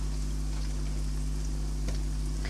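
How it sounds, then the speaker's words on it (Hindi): Radish pieces frying in hot oil in a pan for mooli bhujia, a steady close sizzle with constant low hum underneath, no talking. "ये मूलियाँ भी साथ मेरी फ्राई हो रही है।"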